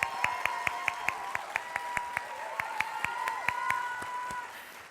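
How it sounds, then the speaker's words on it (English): Audience applause at a raspberry festival royalty coronation on stage, a steady crowd clapping with regular sharp claps standing out near the microphone, with some faint cheering and murmuring through it. "Let's give all these candidates a big round of applause."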